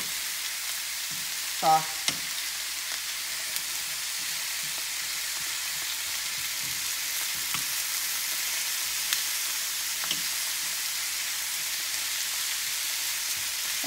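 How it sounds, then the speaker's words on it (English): Zucchini sautéing in a pan, giving a constant broad frying hiss with faint stirring scrapes and a brief louder clatter near the start, while a voice briefly speaks. "We're going to saute them a bit so they turn a little tender"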